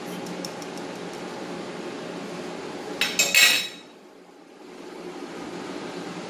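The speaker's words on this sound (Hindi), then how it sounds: "इसको आप थोड़ा सा चम्मच से हिला भी सकते हैं, इधर उधर" A spoon moves through jaggery pongal in a pot, with a low hum underneath and a short burst of metallic clinks and scraping partway through before things go quieter.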